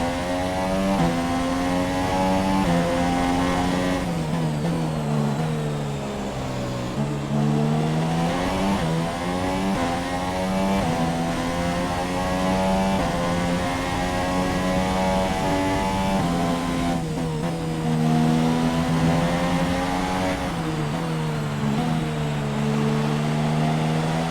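Formula 1 car engine in F1 2017 at the Hungaroring, Hungarian Grand Prix, on the final lap: a loud, continuous high-pitched engine whine that rises and falls through gear changes, with shifts and dips around mid-clip and near the end.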